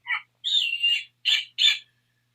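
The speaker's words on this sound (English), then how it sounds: "It's a snowy owl." A snowy owl calls in a short series of four high, raspy chirping notes, close and clear against a quiet background.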